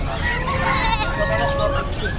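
Goats bleating at a livestock market in Valenzuela where goats and native chickens are sold, a loud wavering bleat rising over a busy, noisy background.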